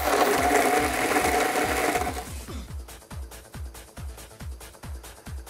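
A blender whirs loudly through lemon soda, condensed milk, sugar and ice for about two seconds, then slows into rapid rhythmic chopping pulses as the motor winds down.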